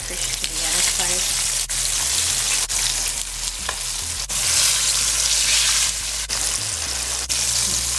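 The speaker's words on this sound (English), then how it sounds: "tilapia is finished frying" Flour-coated tilapia fries steadily in a pan, a dense continuous sizzle with crackling spatters and a low hum underneath, close and loud throughout.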